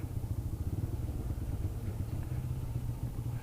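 A motorcycle idles in the parking area of a dhaba in Murthal, its engine giving a steady, close, low rhythmic throb with a faint clatter and no talk.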